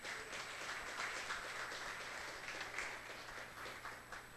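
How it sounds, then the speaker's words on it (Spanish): Church congregation giving a loud round of applause, dense continuous clapping heard at a distance and fairly faint, steady for the whole stretch. "Démosle un fuerte aplauso a Dios"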